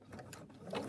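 Embroidery machine stitching out the next colour of a padded design, a quick mechanical clatter of gears and needle, moderately close and steady over a short burst.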